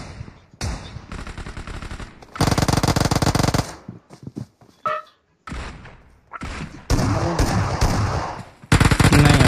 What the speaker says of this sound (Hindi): फायरिंग के बीच में उतरी कर रहा है।